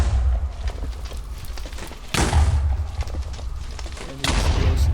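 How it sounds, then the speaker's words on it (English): Booming explosions in a Minecraft mutant mob fight, two heavy low blasts a couple of seconds apart over a loud, rumbling background of game noise. "the explosion seems to knock some of the other ones into the air"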